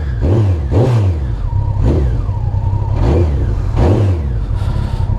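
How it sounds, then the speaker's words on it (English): A Honda CBR1100XX Blackbird motorcycle's 1137cc engine revs up sharply five times in quick succession, each rise falling back to idle, loud and close. "that 1137cc engine sounds good"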